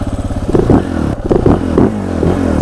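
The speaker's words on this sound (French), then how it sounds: "on va se faire un petit tour avec le KTM SMCR 690" A KTM 690 SMCR supermoto single-cylinder engine revs and accelerates up close, loud throbbing pulses rising in bursts with brief shifts, heard alone without talk.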